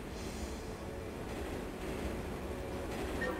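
A train rolls along in Turok 3, a continuous low rumbling drone with faint metallic squeal near the end, steady and moderately distant with no voices over it.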